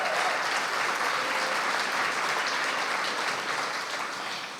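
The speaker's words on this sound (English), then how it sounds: "That deserves some applause too." An awards-ceremony audience at a hall of fame induction claps steadily and loudly throughout, the dense applause fading a little at the close.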